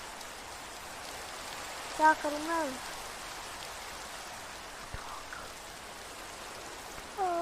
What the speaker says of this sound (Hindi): मुझे बहुत बुरी लगती है बारिश।